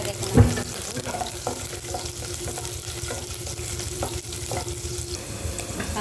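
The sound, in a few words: cooking oil sizzling in a hot pot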